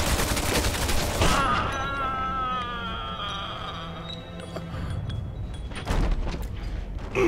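Gunfire in the Mafia 2 video game, with sharp bursts of shots at the start and near the end around a stretch of ringing, echoing tones, fairly loud and close with no talking.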